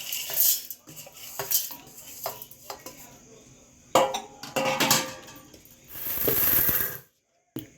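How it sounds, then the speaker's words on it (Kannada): Roasted chana dal and urad dal for chutney powder being tipped into a mixer jar, a run of rattling, clinking pours and scrapes against metal in short bursts, followed by a sudden silence. "ಇವಾಗ ಮಿಕ್ಸಿ ಜಾರ್ಗೆ ಹಾಕ್ತಾಯಿದ್ದೀನಿ."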